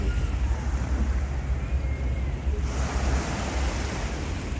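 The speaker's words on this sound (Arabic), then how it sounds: "ايوه انا عايزه الميه تعصني تغرقني زي سنبل ما كان بيقول هغرقكم هغرقكم." Sea waves breaking on the shore at Alexandria, a steady broad wash of surf with wind rumble across the microphone, continuous and fairly close with no voices.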